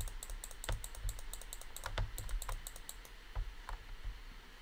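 A mouse is clicked in rapid bursts during a video game minigame, the clicks sharp and close with short pauses between flurries. No one talks.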